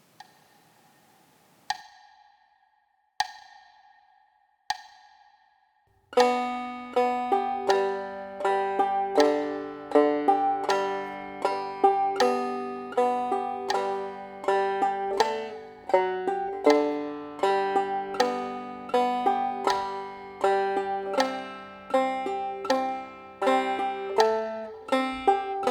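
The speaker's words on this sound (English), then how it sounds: "we're going to be playing some hammer thumbs after the melody notes" A plucked string instrument plays the Skip to My Lou melody in hammer thumbs style: a few isolated notes first, then a steady rhythmic run of bright plucked notes alternating with lower thumb strikes, clear and close with no voices.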